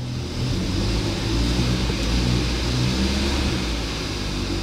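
A salvaged Hyundai i30 N-Line engine runs steadily after starting, a loud, close, continuous low rumble with slight fluctuation and no talk over it.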